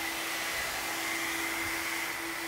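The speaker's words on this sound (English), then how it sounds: "These four dryers definitely served their purpose as an inductive load." Four hair dryers running together as a load on a battery inverter setup produce a steady, even blowing roar with a faint tonal hum, continuous and fairly close, with no talk.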